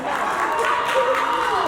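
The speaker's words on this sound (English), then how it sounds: "A round of applause for him," Audience applause with mixed cheering at a celebration for a deaconess's 75th birthday, a steady broadband wash of clapping and crowd noise with a faint tonal voice running through it.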